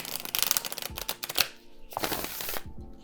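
Tarot cards are riffled and shuffled in quick repeated bursts of crisp flapping, close and fairly quiet, with brief pauses between shuffles; the deck is well broken in.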